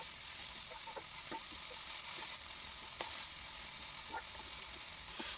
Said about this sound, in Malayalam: നന്നായി ഒന്ന് ഇളക്കുക